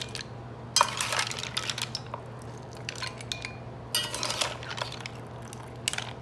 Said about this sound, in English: So I'm just gonna spoon some of these mussels and some of that,